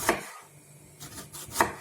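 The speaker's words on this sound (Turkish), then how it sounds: "soğanlarımızı doğruyoruz" A few sharp knife chops strike a cutting board as onions are diced into cubes, spaced unevenly, quiet and close.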